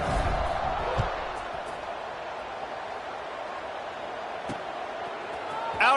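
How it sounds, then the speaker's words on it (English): Football stadium crowd buzzing after a score at a Southern Miss versus ULM college game, a steady dense roar holding throughout with a few thuds, while a play-by-play announcer talks over it. "this crowd is buzzing after that last score"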